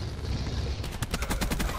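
Rapid automatic gunfire in a Call of Duty Black Ops 4 Hardpoint match, a sustained burst of sharp evenly spaced shots starting partway in over a dense game background.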